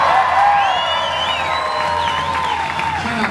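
Audience at a Tongan show at the Polynesian Cultural Centre cheering and whooping in a steady, loud crowd roar, with some high shouts rising over it.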